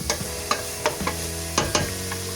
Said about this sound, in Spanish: Vamos a sofreír un poquito esta cebolla.